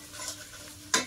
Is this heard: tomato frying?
yes